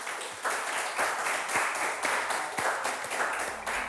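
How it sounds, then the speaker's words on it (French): Studio audience applauding at the end of a round on a French game show, steady dense clapping at close range filling the whole few seconds without anyone speaking over it. "Merci de les applaudir."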